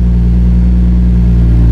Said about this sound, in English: I just turned the idle control on the ECU and she's idling.